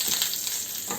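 Asparagus and garlic sizzling loudly in hot oil in a frying pan for a Spanish fritada, a steady close crackle with short spattering bursts and stirring and no voices.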